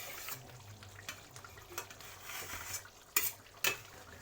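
Spoon stirring cassava leaves in a pot, a soft scraping swirl with a few sharp clinks against the pot, close by and fairly quiet.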